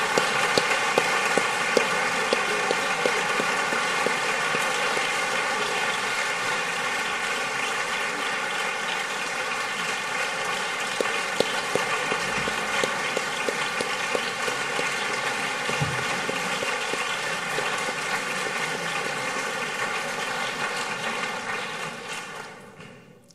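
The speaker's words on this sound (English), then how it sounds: "On peut l'applaudir." An audience applauds Peter Singer at a talk, with dense, sustained clapping from a large crowd that holds steady and then fades out at the close.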